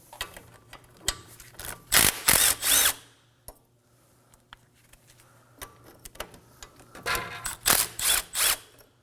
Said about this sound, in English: Using a 12mm socket, we're gonna go ahead and remove these two bolts.